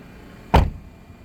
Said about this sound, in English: We'll test the door close noise.